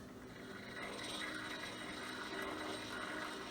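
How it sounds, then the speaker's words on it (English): An antique phonograph's spring motor engages with a steady mechanical whirring and faint ratcheting clicks, close and continuous with no talking. "And we will engage the motor."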